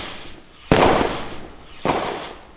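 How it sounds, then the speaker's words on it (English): Two sharp firework bursts in a video game, each a sudden loud crack that trails off into a crackling decay, about a second apart. "There's the fireworks."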